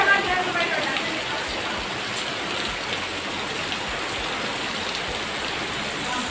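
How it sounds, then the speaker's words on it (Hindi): Heavy rain pouring down in a village, a dense, loud, continuous hiss of water hitting surfaces that stays even throughout. "देख सकते हैं कितनी तेज़ बारिश हो रही है"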